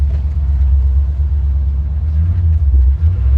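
A 1940 Chevy truck engine fitted with dual quad carburetors idles close by with a loud, deep, steady rumble and slight lope, with faint voices in the background.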